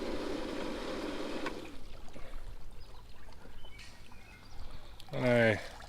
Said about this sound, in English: I typically lift this up, kind of let the water drain.